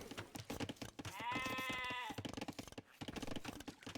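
Sheep bleat in an Age of Empires real-time strategy match, with one clear wavering bleat rising over a steady patter of rapid computer keyboard typing and mouse clicks.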